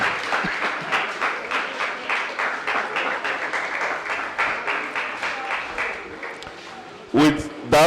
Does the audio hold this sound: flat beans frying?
no